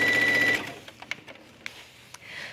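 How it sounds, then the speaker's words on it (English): Sewing machine stitching down a tunic seam with a half-inch seam allowance, a fast mechanical whir for about half a second, then scattered soft clicks and handling sounds. "The next thing you do is just sew down the seam."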